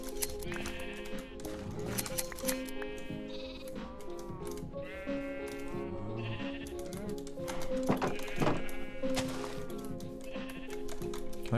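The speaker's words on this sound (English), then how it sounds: "I should probably be shearing this sheep" Sheep bleat repeatedly in the Minecraft video game, several wavering calls layered over continuous background game music and ambient tones.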